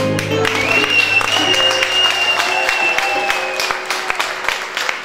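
Audience applause at a Portuguese fado performance, a dense steady patter of many hands clapping, fairly close and loud, with faint voices and a whistle-like tone threading through it before fading slightly toward the end.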